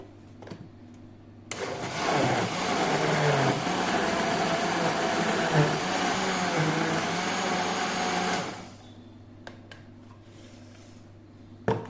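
An electric kitchen blender whirs loudly as it purées peas and carrots, starting abruptly, running steadily for several seconds, then cutting off, with kitchen clatter before and after.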